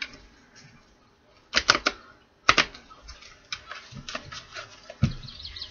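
Tarot cards shuffled by hand in a few brisk bursts of crisp riffling and tapping, close and fairly quiet, with pauses between bursts.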